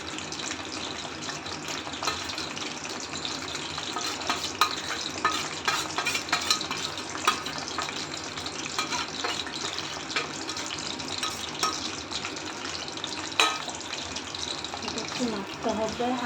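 Ground masala paste frying for mango pickle, a dense crackling sizzle with constant stirring scrapes against the pan, close and fairly busy, without clear talk.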